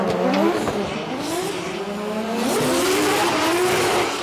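Two drift cars initiating a drift side by side on Ebisu Circuit West Course in Fukushima, engines revving with rising pitch over continuous loud tire squeal, crowd and track noise beneath.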